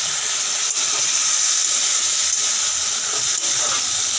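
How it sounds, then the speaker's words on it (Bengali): Ginger, garlic, onion, cumin and tomato spice paste sautéing in a pan, a steady close hiss and sizzle throughout with no talking. "বেটে রাখা মশলা দিয়ে দিলাম, আদা রসুন পেঁয়াজ জিরে টমেটো, আদা জিরে গোলমরিচ গোটা জিরে ধনে, এগুলো চলো ভালো করে কষিয়ে নিই।"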